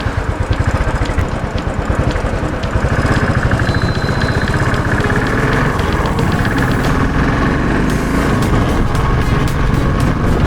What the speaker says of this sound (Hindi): सिर्फ क्लच और गियर डाउन, और कुछ नहीं कर रहा हूँ। मैं स्लोली गियर डाउन कर रहा हूँ।